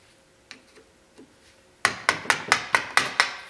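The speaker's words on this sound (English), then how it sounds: "hammer and a screwdriver" A hammer drives a screwdriver against the snap ring on the lower ball joint of a 1980 Chevy Silverado front axle: a few faint taps, then a quick run of seven sharp metallic strikes close by.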